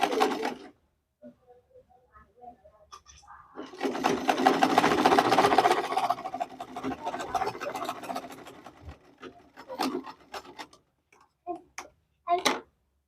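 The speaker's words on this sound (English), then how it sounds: "Then you will sew it just to hold." A sewing machine stitches a Queen Anne dress neckline in a quick rapid-ticking run of several seconds, preceded and followed by short starts, clicks and fabric handling, close and moderately loud.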